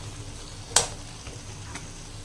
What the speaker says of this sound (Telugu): వేపిన ముక్కలు వేసి సిమ్లో పెట్టి కాస్త బాగా ఆ మసాలా మొత్తం దీనికి పట్టనిద్దాం.